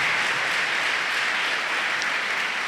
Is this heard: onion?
no